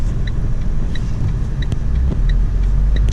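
Renault Twingo 2 RS on a cup chassis, its engine droning steadily from inside while driving, a low continuous rumble with a faint rhythmic ticking.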